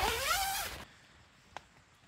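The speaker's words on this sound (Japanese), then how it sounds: "YKK のチャックじゃないからな" A non-YKK zipper on a Naturehike CloudUp 2 lightweight mesh tent is pulled in one quick, close rasping zip that ends abruptly, followed by quiet and a single small click.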